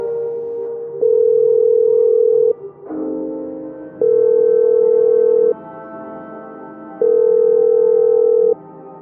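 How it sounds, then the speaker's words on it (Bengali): A telephone ringback tone on the other end of a call repeats as three long, steady electronic rings separated by pauses, clean and close like a sound effect, with no voices. "প্রদীপ হঠাৎ ফ্ল্যাটের নম্বর ডায়াল করল এবং শুনতে পেল ওপাশে রিং হচ্ছে।"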